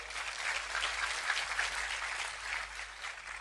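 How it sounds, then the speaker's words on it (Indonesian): A dense wash of applause from a large crowd at a gathering of BCS and Bonek football supporters, a continuous even roar of many hands at a distance. "sekali lagi tepuk tangan untuk BCS dan bonek"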